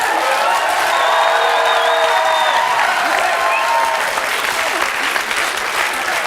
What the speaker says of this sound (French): Bruno, qu'on peut applaudir.